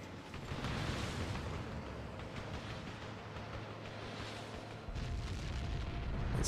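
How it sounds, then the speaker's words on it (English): A cruise missile blast in the flight game Ace Combat: Assault Horizon gives a deep, sustained rumbling roar that stays loud throughout, with a fresh surge near the end and no voices. "It's still a pretty big explosion."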